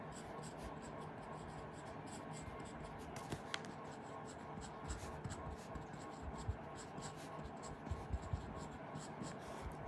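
Pen writing numbers on paper by hand, a soft, steady scratching with small taps that runs throughout, quiet and close.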